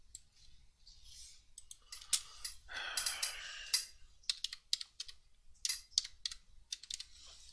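Typing on a computer keyboard, quick bursts of light, close clicks and taps with short pauses between them, faint overall, with a soft breath in the middle.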